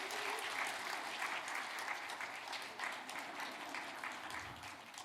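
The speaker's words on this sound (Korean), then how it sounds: "박수 한번 쳐주세요." A congregation at a New Year blessing revival church service claps together in a dense, steady wave of applause that fills the room and holds at an even level throughout.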